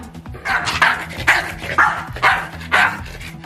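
A small dog barks five times in a steady rhythm, sharp and high-pitched yips at close range.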